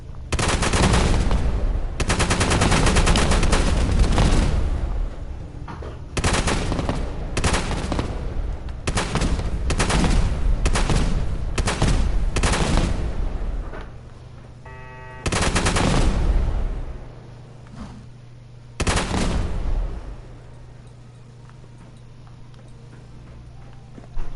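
Gun firing repeatedly in rapid automatic bursts, loud and close, several long volleys broken by short pauses, with a few single shots trailing off near the end.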